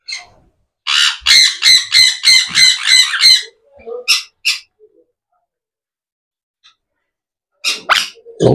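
Pet birds give a rapid run of loud, harsh squawks, then a few scattered calls and a quiet gap before another burst of squawking close by.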